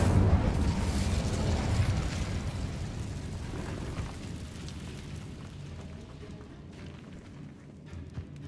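A fire spell, Incendio, erupts in a video game with a loud whooshing burst of flame that rumbles and slowly fades into a crackling, dwindling tail.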